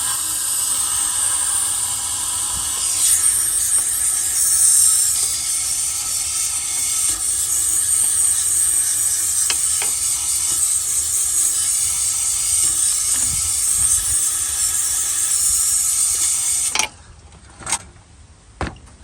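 Aerosol cleaner spray blasts steadily into the throttle body of a Ford truck with a rough cold-start idle, a loud continuous hiss lasting about seventeen seconds before it abruptly stops, followed by a few faint clicks.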